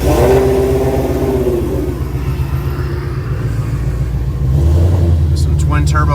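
A twin-turbo GT350R Mustang accelerates hard, its loud engine roar rising in pitch and rumbling steadily close by, with brief higher whine and clatter near the end.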